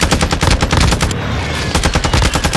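Rapid automatic gunfire from Call of Duty Warzone on Ashika Island, loud and dense bursts of shots that run continuously with a brief lull midway.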